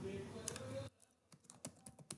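Keys clatter on a computer keyboard in a quick burst of close, light clicks after a short stretch of speech, then trail into scattered keystrokes.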